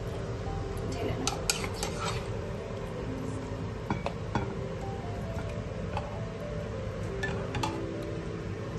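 Cooked food scraped and poured from a pan with the gas switched off, a stretch of steady metal scraping and clinking of a spoon against the pan, close and continuous, with faint residual sizzle.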